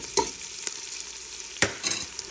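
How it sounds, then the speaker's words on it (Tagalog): Sliced fishballs sauté in a hot pan, a continuous close sizzle broken by a few sharp scrapes and clacks of a utensil stirring, with no one talking. "igisa lang natin siya ng konti para bumango yung fishball natin"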